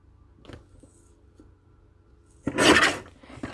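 A paper trimmer slicing cardstock into strips, quiet small clicks and taps for a while, then one loud, close rasping cut lasting about half a second.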